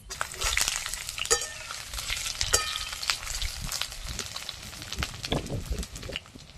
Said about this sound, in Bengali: কড়াইতে সর্ষের তেল দিয়ে দিলাম, এবার সব ভাজাগুলো ভেজে নেবো আগে